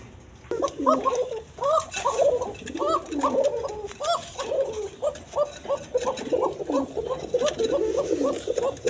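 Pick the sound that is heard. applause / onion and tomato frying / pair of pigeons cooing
pair of pigeons cooing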